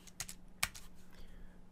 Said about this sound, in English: I guess I'll just type it out